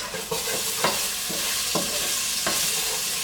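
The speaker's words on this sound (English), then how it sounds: "let the garlic cook for a bit" Garlic sizzles in a pan, a steady close hiss of frying with several sharp scraping strokes from stirring spaced through it, and no voices.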